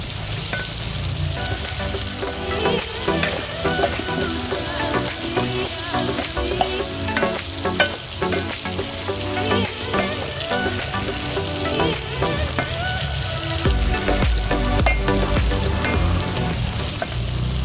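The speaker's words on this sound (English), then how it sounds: "The moment it begins to sizzle, stir fry until it is golden brown." Continuous loud sizzling and crackling of chicken gizzards stir-frying in a hot pan, steady throughout with occasional stirring scrapes.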